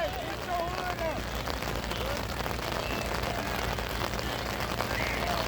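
Rain falls outdoors while children play, a steady dense hiss of drops filling the whole stretch, with voices mixed faintly into the wash.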